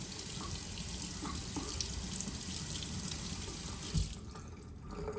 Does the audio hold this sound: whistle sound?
no